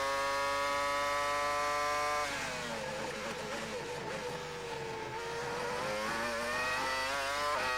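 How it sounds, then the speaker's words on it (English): A Mercedes V10 engine in the back of a 2002 McLaren Formula 1 car racing at the Canadian Grand Prix, a high-pitched screaming whine that holds steady, drops as the car lifts off, then climbs again through the gears, heard somewhat distantly. "the Mercedes V10 engine working hard in the back of the McLaren here"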